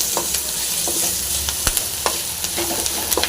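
Salt, curry leaves and coriander fry in a pan with a constant close sizzling hiss. Sharp scraping clicks from stirring come through it every half second or so.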